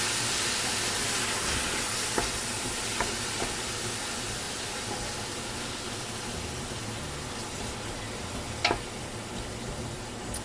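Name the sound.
stirring browning ground meat in a pan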